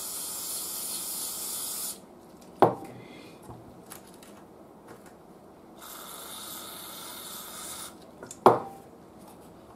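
Cleaner sprays in two sustained hissing bursts into an old Arvin shortwave radio, each burst running several seconds at close range, with small clicks and handling noises between them and no talk.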